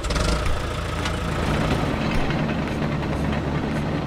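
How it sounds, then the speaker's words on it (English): A road roller's engine rumbles steadily and fairly loudly at close range, a continuous dense drone with no breaks and no voices. "Road roller."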